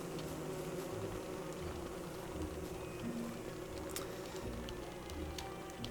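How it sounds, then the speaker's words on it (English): Killer bees drone in the Don't Starve: Reign of Giants video game, a continuous buzzing hum with small clicks and taps scattered over it, steady and fairly close throughout. "you've got a large number of killer bees loitering around"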